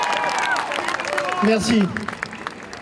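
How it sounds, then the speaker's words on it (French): Crowd applause and clapping at a Paris rally for the release of Hamas hostages, loud and dense, with a voice speaking briefly over the noise. "je vous demande d'applaudir Franck Tapiro"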